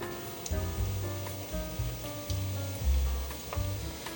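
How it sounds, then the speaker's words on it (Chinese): Taro balls deep-frying in a small pot of hot oil, a close, steady crackling sizzle with irregular popping bursts and occasional low bubbling thuds. "来热一锅油，可以放进来炸了。"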